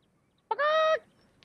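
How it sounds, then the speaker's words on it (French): A hen gives a single short, nasal, honking call at close range, then a quiet pause with soft background noise. "C'est les petites poules, elles ont peut-être pondu."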